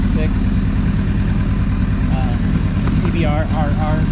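A 2006 Honda CBR1000RR fitted with an IRC quick shifter runs on a stand, its engine holding a loud, steady roar while a voice talks over it.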